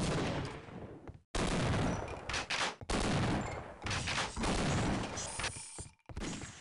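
Gunfire in the video game Half-Life: Opposing Force, loud dense bursts of rapid automatic shots that fill the clip, cut by a couple of abrupt silent gaps, with a brief sharp crack near the end.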